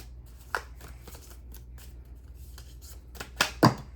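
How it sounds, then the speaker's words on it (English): A deck of cards is shuffled close up, with soft riffling and a couple of sharp flutters near the end. "I'm like not used to shuffling like on camera, so I'm gonna shuffle again"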